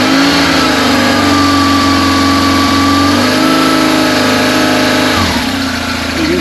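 A BMW 1150 GS motorcycle engine runs steadily after a fuel mixture adjustment, a loud, even idle with a faint rise and dip in pitch near the end and no talk.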